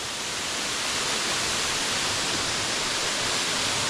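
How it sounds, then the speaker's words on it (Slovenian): The lower Peštura waterfall in Albania roars in a dense, unbroken rush of falling water, loud and close, with no voices over it. "to je prvi slap Peštura"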